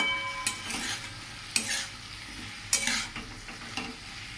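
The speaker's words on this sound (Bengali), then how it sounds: "এবার একটু নাড়াচাড়া করে নেব" A utensil scrapes and stirs boiled potatoes in a pan in a few rhythmic sweeps, with a soft frying sizzle underneath, close by and without talk.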